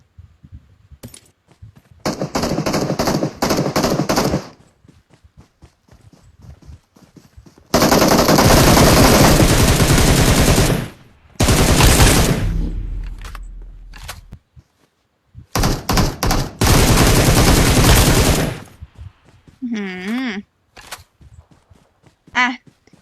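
Bursts of automatic gunfire from the mobile battle game PUBG Mobile, set on the Aftermath map, fire in several long sustained volleys separated by short gaps, with a few single shots and small clicks between them.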